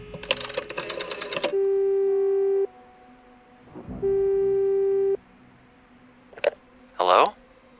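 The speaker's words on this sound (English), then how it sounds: "A phone. Should I call Carl?" Telephone call tone in the video game Frequency Missing: quick keypad dialing beeps, then two long steady ringback tones separated by a pause, followed by brief clicks and a short voice near the end.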